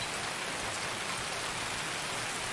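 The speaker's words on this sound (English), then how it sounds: "I always feel like I have to yell when it rains" Steady rain falls hard on a surface, a dense, even hiss with no breaks and no voices.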